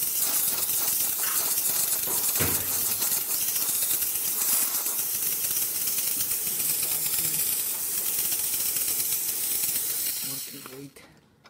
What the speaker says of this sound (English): So let's test the machine, starting with some steam.